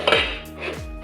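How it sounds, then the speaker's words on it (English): A pot of boiling pasta is moved onto a stove, giving a loud clank of metal on the burner followed by a second knock near the end, with a steady background hum between. "There's pasta boiling, so I'm just going to move it over there onto the stove."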